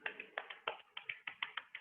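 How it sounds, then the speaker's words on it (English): Hands patting the legs during a seated upper-body exercise session, a quick series of about a dozen soft, close slaps in a steady rhythm, with no talking. "And give your legs a pat down."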